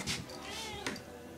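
A kitten meowing indoors, two short close meows a moment apart, with soft room noise between.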